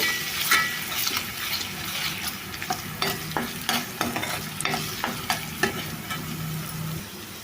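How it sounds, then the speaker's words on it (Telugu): Ginger garlic paste frying in a pan for a mutton pickle, a steady close sizzle broken by repeated scraping and stirring strokes of a utensil against the pan, with no talking. "ఇది పచ్చివాసన పోయే వరకు ఒక రెండు నిమిషాలు అయితే ఫ్రై చేసుకోవాలి ఈ అల్లం వెల్లుల్లి పేస్ట్"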